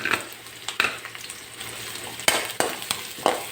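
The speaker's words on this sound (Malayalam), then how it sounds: "അതിലേക്ക് വെളുത്തുള്ളി ഇട്ട് കൊടുക്കാം കേട്ടോ." Garlic fries in a pan for a spinach dal curry, with a soft continuous sizzle broken by several sharp stirring scrapes and clinks of a utensil against the pan. The sound is close, and no one speaks.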